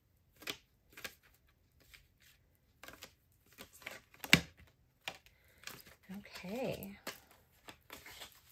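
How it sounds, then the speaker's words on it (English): Traditional tarot cards are shuffled and pulled, giving a string of soft, papery flicks and snaps scattered through the clip, close and quiet, with a voice speaking briefly between them. "I'm going to be pulling some traditional tarot cards here for you as clarifications"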